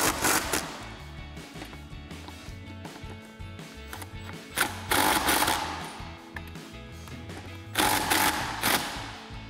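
Rapid bursts of an impact wrench or ratchet snugging lug nuts on a Teraflex Alpha HD hinged spare tire carrier for a Jeep Wrangler JL, loud close rattling hits in several clusters with brief pauses between.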